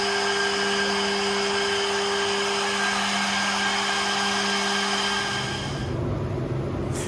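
A Hebrock F5 automatic edgebander runs with a steady, loud motor hum and whine that holds constant, then shifts to a lower rumble with a hiss near the end.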